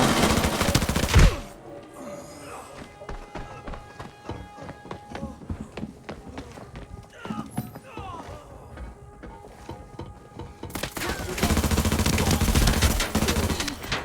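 Rifle fire from an H416 in the game Arena Breakout: a dense burst at the start, sparse distant shots in the middle, then heavy sustained firing toward the end, loud and close.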